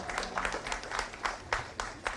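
Scattered, moderately distant clapping from a crowd at a police passing out parade, coming in uneven bursts with faint voices underneath.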